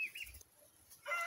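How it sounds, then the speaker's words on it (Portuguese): A brooding hen sitting inside a bucket on her eggs gives a few short, soft clucks close by, with quiet gaps between them. "essa galinha tá choca aqui dentro do balde"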